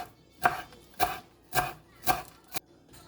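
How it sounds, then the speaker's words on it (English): A knife dices three medium fresh tomatoes on a cutting board, giving five distinct, evenly spaced chops close by with quiet pauses between them. "instead of using sun-dried tomatoes, I'm using fresh tomatoes instead. And here I have 3 medium-sized ones. I'm going to go ahead and dice these."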